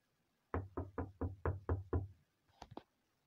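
Seven evenly spaced knocks on a door in a steady rhythm, then a short pause and a couple of quieter, quicker taps, all fairly close with no talking.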